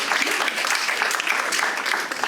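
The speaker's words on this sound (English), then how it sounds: "Let's give a round of applause." Audience applause at a wealth-building investor panel, dense steady clapping from a room full of people, continuous and fairly loud throughout.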